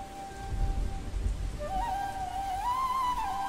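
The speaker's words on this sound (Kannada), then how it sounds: "ಧಾರಾಕಾರವಾಗಿ ಸುರಿಯುತ್ತಿರುವ ಈ ಮಳೆಯಿಂದ ಮೊದಲು ರಕ್ಷಣೆ ಪಡೆಯಬೇಕು." Heavy rain pours steadily with low thunder rumbling underneath, a dense continuous downpour at moderate loudness, used as a storm effect in a story; a faint tonal drone rises and wavers in the background partway through.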